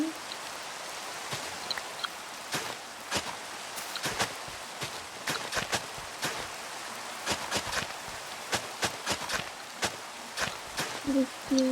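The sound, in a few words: rain falling in the video game Minecraft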